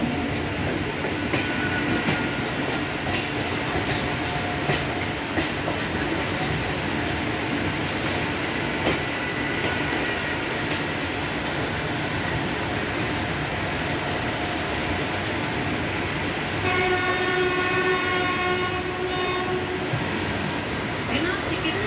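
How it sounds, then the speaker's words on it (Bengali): Trains roll through Howrah station with a steady rumbling drone and clattering wheels, punctuated by occasional clicks. Late on, a tonal whine rises over the rumble, with faint voices in the background. "দেখতে পাচ্ছেন হাওড়া স্টেশনে আনাগোনা করছে বেশ কিছু ট্রেন"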